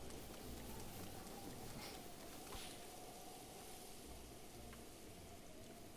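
Steady, soft rain hisses in the open world of Breath of the Wild, a faint, even wash of falling drops with no voices over it.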